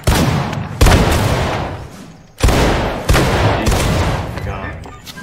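Musket volleys fired by a line of players in a Roblox Civil War regiment training game, four loud booming blasts with long decaying tails spaced a second or two apart.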